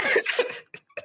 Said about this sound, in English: coughs a little bit